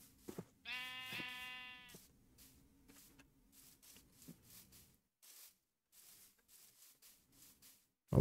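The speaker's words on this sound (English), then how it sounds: "Got a whole bunch of sheep here, but I don't need them." A Minecraft sheep gives one clear, close bleat in survival gameplay, set among soft footsteps and quiet clicking game sounds.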